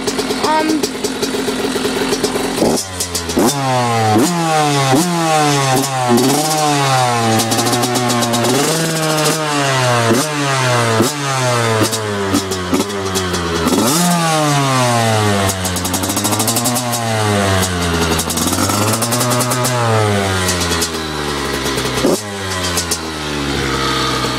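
Two dirt bikes, a 2002 Suzuki RM85 and a Honda CR85RB, kick into life after a brief quiet start, then their two-stroke engines rev up and down repeatedly, loud and close, with someone talking underneath.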